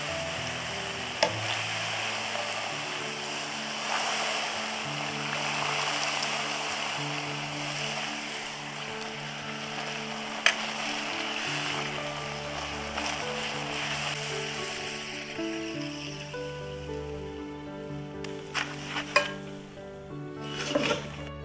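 Doubles dough (Trinidadian fried flatbread) dropped into hot oil, frying with a steady bubbling sizzle throughout, close and moderately loud, with a few sharp clicks and knocks near the end.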